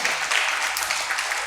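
Students in a school assembly at a Melmaruvathur Adhiparasakthi group school break into steady, dense applause, a broad wash of clapping filling the hall without pause.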